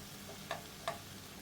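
Spices for prawn biryani fry in oil in a pot, a faint soft sizzle under two quick scraping strokes of a stirring utensil close by.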